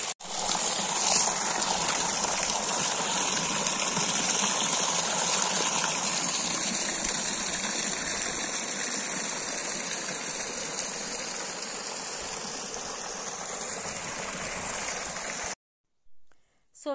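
A natural stream of water flows and gushes steadily outdoors, a continuous close hiss and rush that carries on almost unchanged before cutting off near the end.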